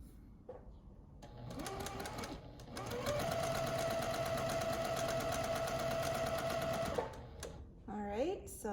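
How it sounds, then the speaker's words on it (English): A sewing machine chain-piecing quilt squares for half square triangles runs in a steady, fast mechanical whir for several seconds, with brief starts and stops and quiet handling noises around it. "So now these two get sewn together."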